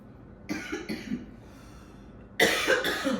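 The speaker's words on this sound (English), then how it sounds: "when I cough right at the beginning" Two pairs of coughs, the first softer and the second louder and harsher, separated by a short quiet pause.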